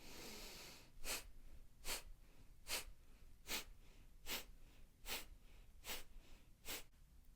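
Kapalabhati breath of fire: nine short, forceful nasal exhalations puff out at a steady rhythm about a second apart, faint and close, with no talking.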